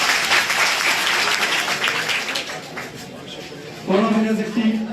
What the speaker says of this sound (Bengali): তোমরা সবাই করতালির মাধ্যমে তাকে গ্রহণ করবে